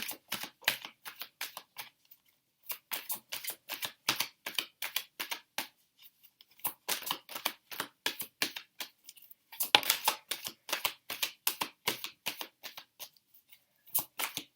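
Cards being shuffled in repeated crisp riffling bursts, with short pauses between rounds; close and clear, no talking.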